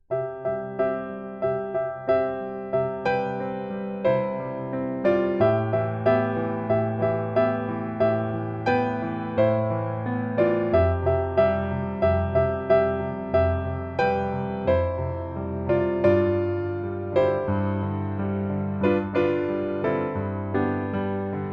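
Piano plays a flowing chord progression, broken into steady rolling arpeggios over sustained bass notes, close and moderately loud with no voices.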